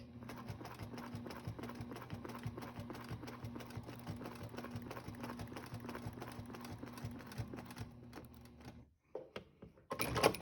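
A sewing machine fitted with a ruler foot stitches a decorative quilting border, running in a steady rhythmic hum and clatter for about nine seconds before stopping, followed by a few handling sounds.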